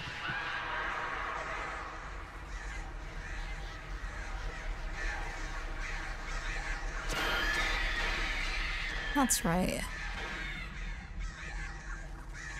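Crows in the video game Alan Wake caw and shriek in a loud swarm, with a piercing scream rising near the end and a voice speaking briefly.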